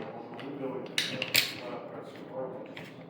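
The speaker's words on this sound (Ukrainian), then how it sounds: "і закручуємо гайку ствола." Metallic ratcheting clicks and a couple of sharp taps as the barrel nut of an HTT 308 12/76 shotgun is threaded and tightened by hand, close up, over low room noise.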